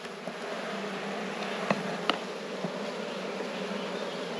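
Honeybees from a rescue hive drone in a steady, close buzz around a frame of nectar, pollen and brood, with a few brief louder passes as individual bees fly near.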